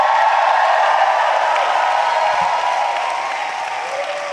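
Large outdoor political rally crowd in York, Pennsylvania, roaring with sustained cheering and applause, a dense steady wash of noise that fades slightly toward the end.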